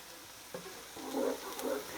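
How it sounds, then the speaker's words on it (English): Flour roux for a creamy orzo pot pie stirred in a pot, a soft low sizzle with a single sharp spoon knock and then swelling scraping strokes, close and quiet without speech. "you have to tend to it by stirring constantly"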